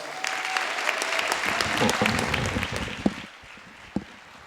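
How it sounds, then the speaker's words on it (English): A high school volleyball crowd in a gym claps dense, sustained applause for the seniors, loud and continuous for about three seconds before it drops away to a couple of isolated claps. "One more round of applause"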